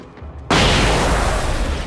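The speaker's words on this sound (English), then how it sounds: "this might be a good flashbang here" A flashbang grenade goes off in Alan Wake with one sudden loud bang, followed by a sustained, roaring burst that stays intense to the end.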